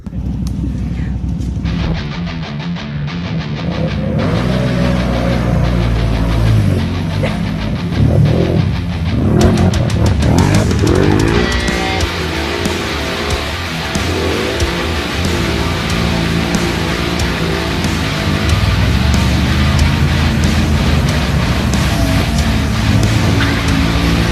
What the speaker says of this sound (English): We're going to race them.